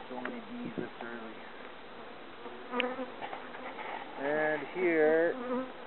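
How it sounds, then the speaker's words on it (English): Honey bees buzz in an open hive during an April inspection, a steady close hum running throughout while someone talks over it. "this is very encouraging to have so many bees this early"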